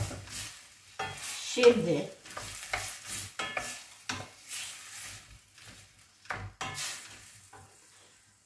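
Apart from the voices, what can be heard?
zucchini and rice sautéing in pan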